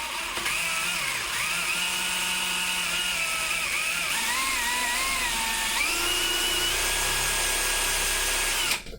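A power drill whines steadily and loudly while boring through wood on a 1/18 scale model Spitfire Mk 1A, its pitch rising and dipping slightly, running continuously until it cuts off at the end.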